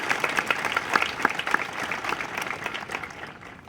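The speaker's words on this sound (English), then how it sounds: "So we could give them a round of applause." At a high school graduation ceremony, the audience gives retiring staff a warm round of applause, a crowd of clapping hands that peaks early and gradually tapers off.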